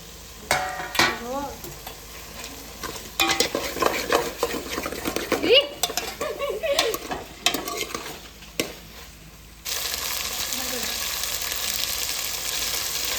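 Onion stirred and frying in a green paste for biryani, with bursts of spoon scraping and pan clatter over a sizzle, then a steady loud hiss, with voices briefly in the background.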